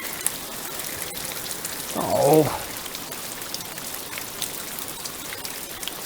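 Rain falls steadily in a cold outdoor setting, a dense even patter of drops on surfaces throughout, while a man briefly exclaims midway.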